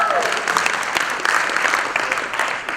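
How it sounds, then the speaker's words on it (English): A conference audience at Big Android BBQ breaks into loud, sustained applause, a thick wash of clapping hands that carries steadily throughout. "Thank you for the gratuitous applause break."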